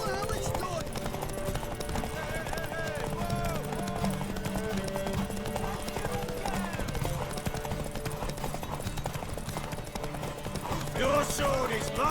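Rapid clip-clop of hooves pounds along in a steady gallop in The Witcher 3: Wild Hunt, with snatches of voices and game sound effects layered over the running horse.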